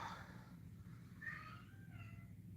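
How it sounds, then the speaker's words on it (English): A house cat yowls indoors, giving a few drawn-out, wavering meows that sound faint and somewhat distant over a quiet room. "one of the cats is yelling at my husband"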